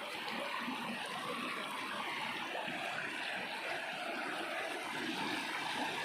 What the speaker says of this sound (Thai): ได้ยิน นะครับเสียงน้ำไหล